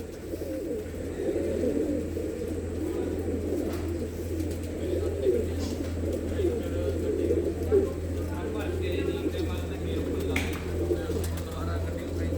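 Many pigeons coo in a low, continuous murmuring chorus nearby in a village loft in Ludhiana, Punjab, with a few faint clicks and flutters mixed in.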